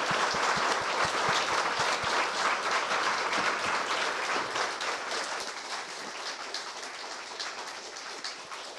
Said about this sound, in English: Can we get another round of applause for our panelists?